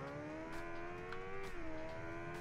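Motorcycle engine in the racing video game Ride 2 revs with a tonal whine that holds and then drops as the rider shifts, steady and moderately loud with no speech.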